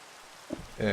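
Steady rain falls in the Minecraft modpack SkyFactory 3, a soft, even hiss that continues throughout and grows louder near the end, where a voice briefly sounds over it.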